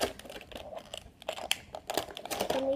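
Scissors snipping through plastic toy packaging for a Harley Quinn figure, heard as a run of close, sharp crinkling cuts and rustles with uneven rhythm, no voices.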